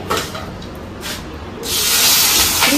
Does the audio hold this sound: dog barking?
no